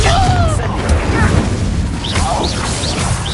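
Confringo blast spell in a video game: a loud, booming explosive crash with swooping magical whooshes, mixed with other game sounds and a voice.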